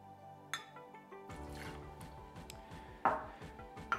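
Clear macadamia-nut-infused rum poured into a cocktail shaker for a daiquiri, a close liquid trickle running for a few seconds with small clinks at the start and end.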